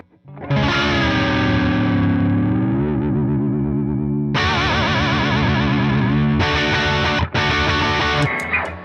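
A Yamaha Pacifica Pro electric guitar plays through a Fender Princeton amp with a warm, slightly distorted, chorused tone: a sustained chord, then several strummed chords with short breaks between.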